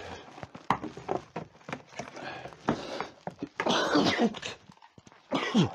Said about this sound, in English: It's making me cough and sneeze.